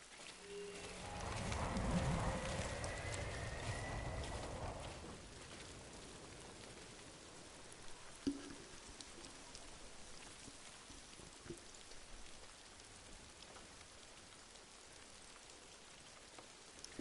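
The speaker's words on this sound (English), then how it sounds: "running through the forest with the sound of rain pouring through in your ears" Rain pouring through a forest in the Ghost of Tsushima video game, a steady hiss of rainfall that swells louder early on, then settles into a constant soft wash with a few scattered drop ticks, no voices.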